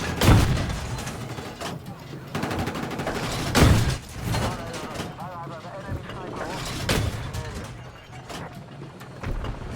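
Video game gunfire aimed at snipers on rooftops: repeated loud shots and bursts over steady battle noise, with someone talking over them throughout.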